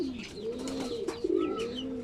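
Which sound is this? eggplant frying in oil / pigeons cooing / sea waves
pigeons cooing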